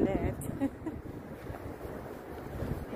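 Wind buffets the microphone at the skyline in cold weather, a rough, gusty low rumble that swells and fades for a few seconds, with a voice speaking faintly underneath.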